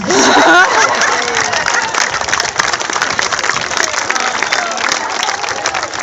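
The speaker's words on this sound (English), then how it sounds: "3 cheers for the girls." A crowd cheers and applauds for a group of girls: a brief raised shout at the start gives way to loud, sustained clapping and scattered cheers that hold evenly for six seconds.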